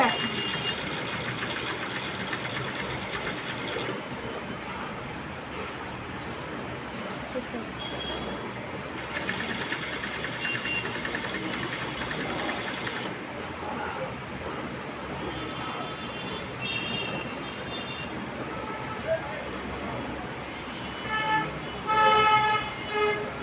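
A sewing machine runs steadily as it back-stitches fabric, with a dense mechanical whir that keeps going under a person's talking.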